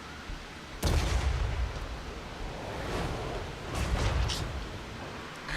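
An Iron Blaster cannon fires in a tabletop-style wargame, giving a heavy booming blast with a long rumbling tail, then a second softer boom a few seconds later, alone.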